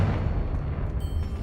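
A Confringo blasting spell explodes in the Hogwarts Legacy video game as a dense, continuous rumbling blast with heavy low-end boom, loud and sustained through the clip without pauses.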